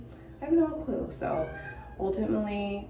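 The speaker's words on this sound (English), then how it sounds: "that was my cat crying" A pet cat meows indoors, its cries mixed in with someone talking at close range.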